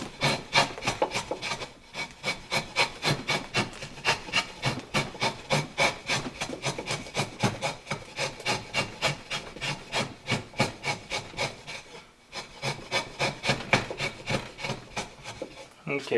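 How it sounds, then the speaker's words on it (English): A draw knife shaves a wooden decoy body held in a block, making a steady run of rhythmic rasping strokes, loud and close, with a brief pause partway through. "that's about as much as I'm really going to be able to pull off with that draw knife"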